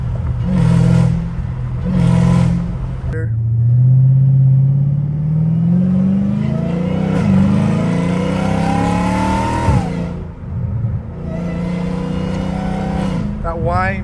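Straight-piped, catless Hellcat Redeye with a wide body kit roars loudly up close, revving and accelerating with a rising supercharger whine over a deep exhaust rumble, easing off and building again, heard from inside.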